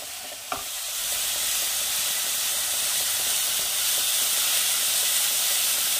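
Spice masala with salt and red chilli powder fries in a pan for a duck egg do pyaja; a brief clatter opens, then a steady, loud sizzling hiss continues throughout.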